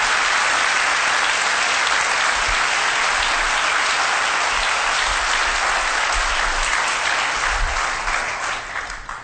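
Congregation clapping in an evangelical church, a loud, sustained round of applause from many people lasting several seconds and tapering off at the end.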